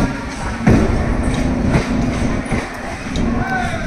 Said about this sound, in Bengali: কুয়াশার চাদর সরিয়ে আমাদের ট্রেন আস্তে আস্তে এগিয়ে চলেছে।